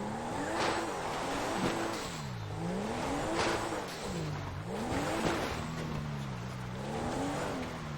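A modified Honda Civic exhaust in GTA 5 revs repeatedly, the engine note rising and falling in several loud sweeping pulls with a raspy, throaty edge that runs continuously over about eight seconds.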